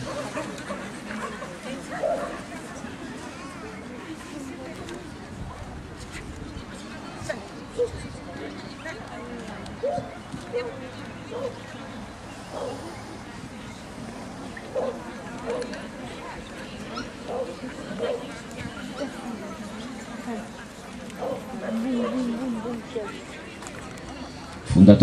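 Puppies yapping at a dog show in a noisy hall, short barks scattered throughout over constant crowd chatter and an announcer's voice.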